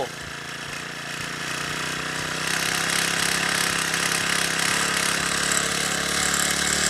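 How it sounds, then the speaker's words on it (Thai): A small engine-driven GOLDBULL F-35B portable sprayer pump runs steadily, then revs up and grows louder partway through, with a rattling mechanical hum and a hiss of spray. "เร่งเครื่องแล้วลองเปิดสายดู"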